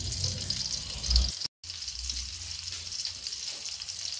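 Tofu pieces frying in hot oil, a steady close sizzle and crackle running throughout, with a brief cutout midway, part of a home-style Indonesian meal.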